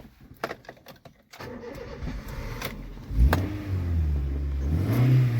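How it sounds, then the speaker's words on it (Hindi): A 2009 Honda City ZX petrol (CNG-fitted) car is started with its self-starter. After a few light clicks and knocks, the starter cranks briefly, then the engine catches with a loud burst and settles into a steady, close idle with a slight rise. "पहले मैं सेल्फ मार के दिखाता हूँ गाड़ी का"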